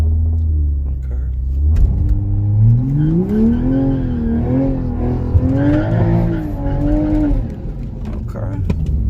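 A small-tire no-prep street race car, a 2021 model, with its engine running loud and close, rumbling low and then revving up and down in wavering pitch sweeps, with someone talking over it at times.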